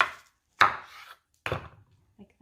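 A knife cuts through an onion on a cutting board: three separate, distinct chops a beat apart, each a sharp crunch that fades quickly, close and clear, with no talk.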